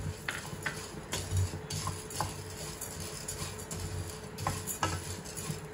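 Urad dal and toor dal roasting in a pan for idli milagai podi, with a spoon scraping and stirring the lentils in irregular strokes and a faint sizzle beneath, close and moderately quiet.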